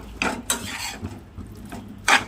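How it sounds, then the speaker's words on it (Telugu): Spoon scraping and clinking against a pan while ketchup is stirred into creamy chicken, several short metallic scrapes spaced irregularly, close and fairly quiet, with no talking. "తర్వాత అంతా కలిసేటట్టు ఇప్పుడు కలుపుకుందామండి"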